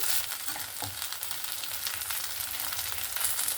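Small shrimp fritters fry in hot oil while a spatula presses them down, producing a steady, dense sizzle with a few soft scraping touches.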